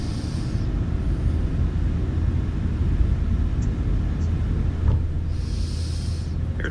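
An airliner's engines roar at takeoff power during the takeoff roll, a loud, steady low rumble heard from inside, with brief faint tones and no clear speech.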